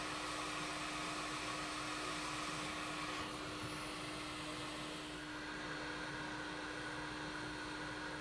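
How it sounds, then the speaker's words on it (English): A hot air rework station set to 380 °C blows a steady, close, continuous rushing hiss of air onto a Samsung A70 phone board to lift off a component, with no talking. "To remove it, I use a GBC air station at 380 Celsius degrees and"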